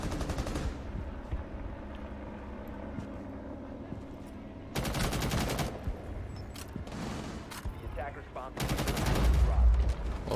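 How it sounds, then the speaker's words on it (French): Gunfire in the video game Rainbow Six Siege: bursts of automatic shots and rapid volleys crackle in loud clusters, with a long sustained burst near the end over a dense game soundscape. "Petit tirs sont lâchés par la Ying."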